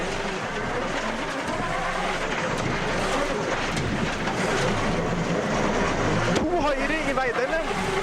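A WRC rally car with a damaged exhaust pulls away and accelerates on a Great Britain stage in 2005, its loud, rough engine roar steady throughout under continuous commentary.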